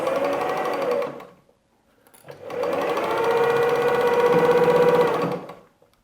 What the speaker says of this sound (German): Dann können wir nun diese letzte Naht nähen.